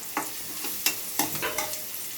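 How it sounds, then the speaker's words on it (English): Prawns frying in a pan and being stirred, with a steady sizzle broken by several scraping, clattering stirring strokes, close and fairly quiet, with no talking. "Fry them till they turn into little brown color."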